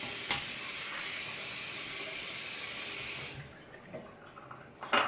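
Steady wet rasping of a Gillette Tech travelling safety razor shaving, a continuous close scraping hiss that stops partway with a few softer strokes and a small knock at the end.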